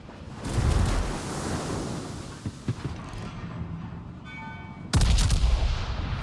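Battleship main-gun salvo in World of Warships from the British King George V: a heavy, deep boom opens, a rumbling roar follows, and a second loud blast lands near the end, with no voices.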